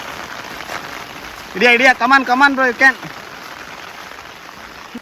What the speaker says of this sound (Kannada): ಕೊನೆಗೂ ಮಳೆ ಬಂದೇ ಬಿಡ್ತು